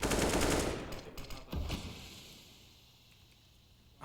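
Rapid burst of rifle fire from wall bangs in a Counter-Strike match on Mirage at IEM Cologne 2021, loud volley at the start then a couple of sharp shots, fading into quieter game ambience.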